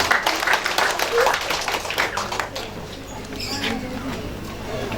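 Applause for a group of siblings at an Indonesian event: a spatter of hand claps from the audience, strongest at the start, then thinning to scattered claps while voices carry on underneath.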